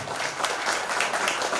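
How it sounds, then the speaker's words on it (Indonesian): An audience at a Quran school graduation ceremony claps, giving a short burst of dense, steady applause that sounds fairly close and full, with no voices over it. "Tepuk tangan dulu buat As-Sakinah."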